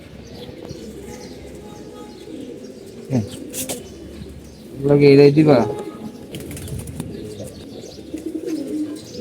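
Pigeons coo in a short burst of repeated low throaty calls midway, close by, among a few scattered chirps and a brief spoken remark.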